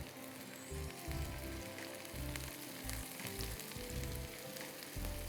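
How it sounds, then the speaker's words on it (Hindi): Onions sizzling in a pan for yakhni pulao, a steady crackling fry with bursts of louder spitting and low bubbling pulses, close and continuous with no talk. "और प्याज को मैं यहाँ तल रही हूँ"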